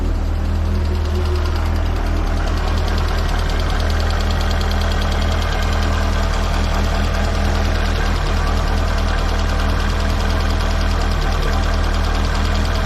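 A collectible GSI 16V car engine idles steadily and loudly at close range, a continuous low throbbing rumble with a faint ticking knock.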